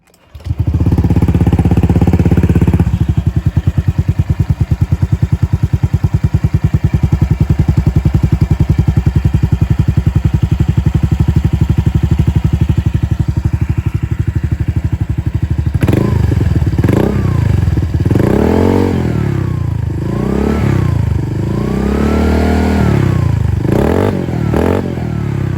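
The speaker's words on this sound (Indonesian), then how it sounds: "Bagi kalian yang pengen dengar suara knalpotnya" A Honda Vario 125 CBS scooter fitted with a second-hand aftermarket exhaust idles with a loud, steady, close burble, then is revved repeatedly in rising and falling throttle blips over the last stretch.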